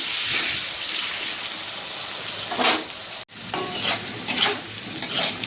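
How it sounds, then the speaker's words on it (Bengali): Cut potatoes fry in oil with a constant soft crackle, while repeated scraping stirs rise and fall over it; the sound cuts out for an instant midway, then resumes. "আলুটা দেবো না, আমি এই তেলে ভেজে নেবো আলুটা।"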